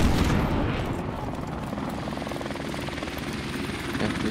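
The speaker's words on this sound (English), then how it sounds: "Friendly helicopter on the way." A helicopter's dense rotor thrum in Call of Duty MWR, loud and steady throughout with a faint pulsing beat, heard alone.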